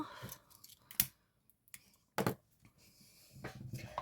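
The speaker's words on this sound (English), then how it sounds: "And then cut that excess off." Scissors snip off excess ribbon while a hair bow is made: a few crisp, separate cutting clicks spaced across a quiet background, close and fairly soft.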